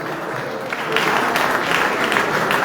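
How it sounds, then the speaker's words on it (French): An audience at a sports awards reception swells into loud, sustained applause, with close clapping that thickens after the first second and carries on under a murmuring crowd. "Merci les frères Modestin, on les applaudit très fort"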